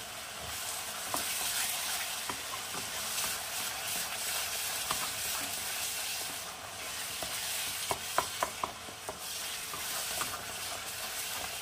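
Chilli powder and spices are sautéed and stirred in oil in a pan for a potato-cauliflower curry: a steady, close sizzle runs throughout, with scraping stirs and a few sharp utensil clinks near the end.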